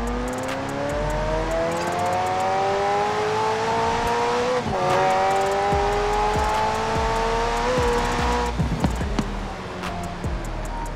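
Car engine in Forza Horizon 4, with a Transformers-themed truck and a McLaren around, revving loud and steady with rising pitch sweeps, a sharp shift near the middle and tire noise toward the end.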